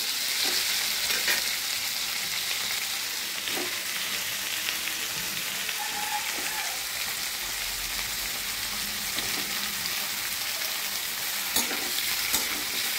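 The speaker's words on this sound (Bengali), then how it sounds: "আলু পেঁয়াজ আমার হালকা করে ভেজে নিয়েছি। এবারে আমি পোরলগুলো দিয়ে দেবো।" Pointed gourd tipped into a pan of lightly fried potatoes and onions, a continuous crackling sizzle of oil with occasional stirring scrapes, close and steady throughout.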